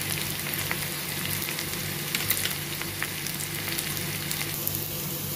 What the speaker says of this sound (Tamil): வெங்காயம், கருவேப்பிலை, பச்சை மிளகா சேர்த்தாச்சு. இப்போ நம்ம நல்லா வதங்க விடலாம்.